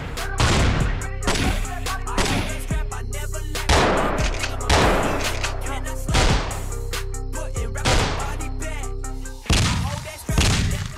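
Shotgun blasts in a video game come as heavy, booming shots spaced about a second apart, each with a thick low thump and decaying tail, loud and close with no voices.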